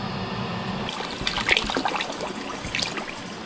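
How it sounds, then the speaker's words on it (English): Water pours from a jug into a canner, a steady close splashing trickle that swells into a fuller gurgling stream and then runs on evenly. "So I'm going to fill up with another jug."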